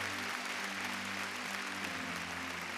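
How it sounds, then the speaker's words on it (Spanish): A congregation claps steadily and evenly at a women's congress church service in Honduras, the applause sounding full and continuous with no voices over it. "Alguien puede darle palmas porque Él se está moviendo en este lugar."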